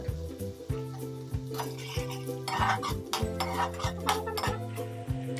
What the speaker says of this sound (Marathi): चांगलं मिक्स करून हलवून घेतलं परतून घेतलं